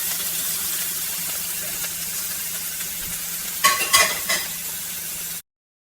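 Butter and garlic frying in a pan, giving a steady low sizzle with a short burst of louder crackling and stirring near the end before the sound cuts off.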